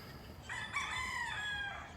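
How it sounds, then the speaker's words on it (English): A rooster crows in one long drawn-out call over about a second and a half, fairly close and clear against quiet outdoor background, with no talking. "It's just these damn roosters"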